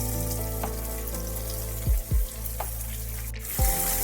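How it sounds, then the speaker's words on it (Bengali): Chopped onion with a little ginger and garlic frying in oil for a mixed-lentil Mughlai dal, a steady close hiss with a few low knocks and clatters standing out. "অল্প একটু আদা কুচি তারপর মাঝারি মাপের পেঁয়াজ ছোট ছোট করে একেবারে কেটে দিয়ে দিচ্ছি তেলের মধ্যে"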